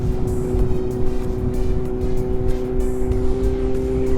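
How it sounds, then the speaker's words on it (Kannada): Kawasaki Z800 sport bike fitted with an Austin Racing slip-on exhaust, a loud steady engine drone holding one pitch throughout while riding, with constant low rumble and wind. "Austin racing slip on, just slip on ಇಷ್ಟು ನಾಯ್ಸ್ ಮಾಡ್ತಿದೆ"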